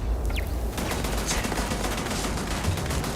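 Automatic turret gunfire in the space game Starfield, a dense continuous burst of rapid shots filling the whole stretch, loud and steady with no talking.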